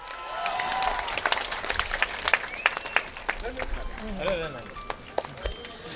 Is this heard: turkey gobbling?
no